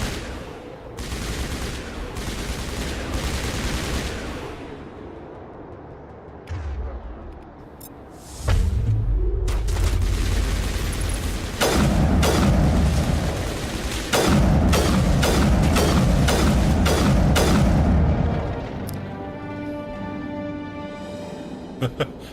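Bursts of gunfire from the sci-fi shooter Mass Effect, loud repeated volleys of shots and impacts with booming hits, dense in the middle stretch and thinning to scattered pops near the end.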